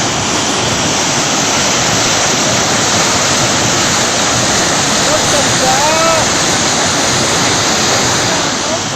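Floodwater let out through the gates of the Bhakra dam pours in a loud, constant roar that holds steady the whole time, with a few faint tones showing briefly beneath the rush.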